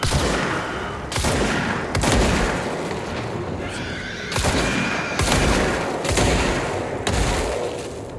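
Weapon fire in the game Control, a run of loud, heavy shots spaced about a second apart, each a sharp broadband blast over a constant rumbling background.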